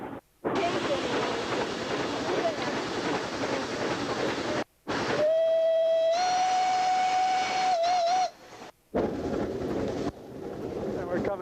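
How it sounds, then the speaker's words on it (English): A steam locomotive on the Mount Rigi cogwheel railway gives a sustained whistle blast of several seconds between stretches of loud, rumbling running noise, with heavy wind buffeting the microphone. "We descended Mount Rigi on this steam-powered locomotive down a cogwheel railway."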